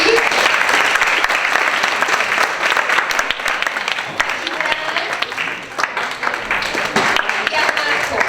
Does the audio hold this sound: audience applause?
yes